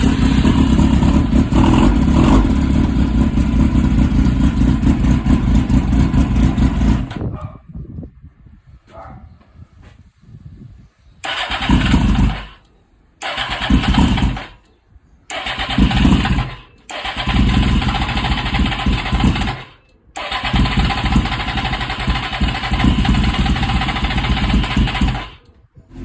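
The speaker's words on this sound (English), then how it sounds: "Now we're gonna start off the bike, and let's start the check." A 1998 Suzuki GSX-R 600 SRAD motorcycle idles loudly, then cuts out, and its engine is cranked and started again several times in short bursts, each catching with a close, rough running rumble.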